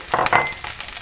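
Spices, curry leaves and pandan leaves hit hot oil in a pan after frying dried sprats for a jackfruit curry, giving a short, loud burst of crackling sizzle that settles into a steadier hiss.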